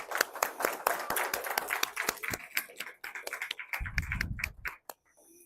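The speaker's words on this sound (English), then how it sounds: "So round of applause." Audience at a BSides Idaho Falls 2025 security conference claps for the sponsors, a loose patter of individual hand claps, fairly close and uneven, thinning out toward the end with a low rumble of movement underneath.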